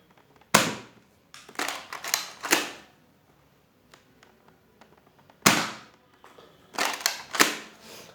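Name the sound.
Nerf Fortnite SP-L blaster firing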